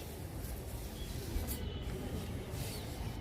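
A mix of neem oil and other ingredients is misted over brinjal and other garden vegetable plants, a faint, steady hiss with a couple of brief breaks.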